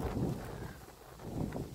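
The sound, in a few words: wind blowing outdoors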